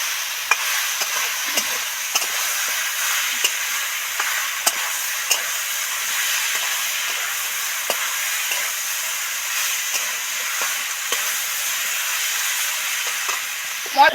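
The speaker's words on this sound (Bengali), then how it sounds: "মশলা যত ভালো করে নেড়ে চেড়ে ভালো করে সবজির সাথে মিশিয়ে দেবো" Spices being stirred into banana stem curry in a pan, a steady bright sizzle and hiss of frying throughout, with faint scraping ticks of the spoon at irregular intervals, close and alone without talk.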